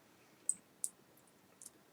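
Three crisp mouse clicks on a teletherapy button in electronic health record software, spaced about a third of a second to a second apart, close and isolated against a quiet background.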